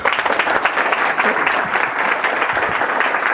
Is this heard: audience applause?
yes